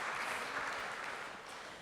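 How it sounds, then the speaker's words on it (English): Audience applause at a startup accelerator demo day in Eurasia, a steady dense clapping that fills the short stretch and fades slightly toward the end. "Yes, a round of applause."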